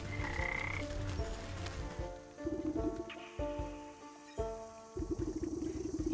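The Frog King croaks in the video game Wytchwood, a run of deep, rhythmic croaks over soft game music, close and prominent, with no one talking.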